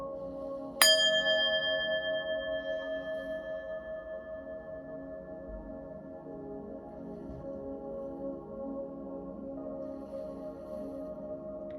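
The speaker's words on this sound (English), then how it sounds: "I'm gonna ring the bell, clear your energy, and we'll start with your money reading." A single bell struck once, a clear bright ring that lingers and slowly fades over several seconds in a quiet room.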